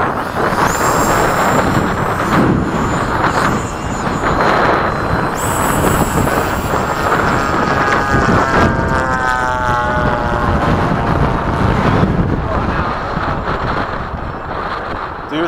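A Freewing 80mm F-5 RC model jet, an electric ducted-fan plane, takes off at a flying field with a loud, steady high-pitched whine and rushing air, joined by another jet for formation flying, sustained and close throughout.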